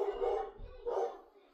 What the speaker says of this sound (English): Stupid dogs are barking.